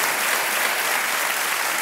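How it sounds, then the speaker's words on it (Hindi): Studio audience applause for a winning contestant on the Hindi quiz show Kaun Banega Crorepati, a steady dense clapping crowd filling the whole moment, loud and continuous without talk. "तालियां बजती रहें इनके लिए"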